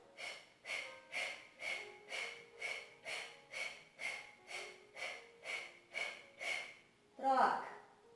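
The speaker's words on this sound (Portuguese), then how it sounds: "Respiração do fogo." Rapid rhythmic breath of fire yoga breathing in a gentle yoga session for seniors and beginners, about a dozen sharp forceful nasal exhalations in even pulses, followed by one longer deeper breath, close and clear with no talking.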